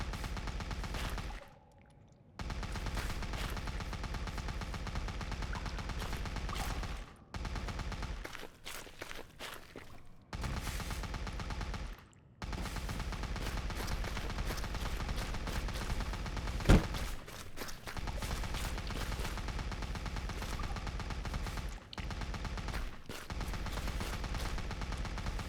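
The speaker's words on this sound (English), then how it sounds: "Nail gun already fires a lot of bullets" A nail gun in the Colony 37 video game fires in long, dense rapid-fire streams, broken by a few short pauses, loud and continuous over game sounds.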